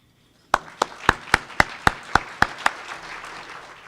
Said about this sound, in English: Please give a big round of applause to Dr.